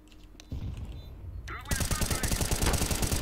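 Rapid automatic gunfire from the Counter-Strike video game bursts in loud and dense, a few separate shots first and then a sustained rattling volley.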